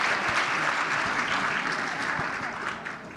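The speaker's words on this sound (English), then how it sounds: "a big round of applause to our panelists" Audience applause for the panelists at a student success summit, a dense burst of clapping that holds steady and tapers slightly at the end.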